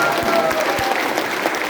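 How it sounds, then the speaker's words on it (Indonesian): A crowd at an event claps steadily in a short burst of dense applause, loud and near, a few individual claps standing out against the mass. "Tepuk tangannya yang ikhlas Pak."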